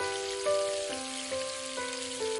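Onions fry in a pan with curry leaves and garlic, giving a steady close sizzle and crackle, with faint tonal hum underneath.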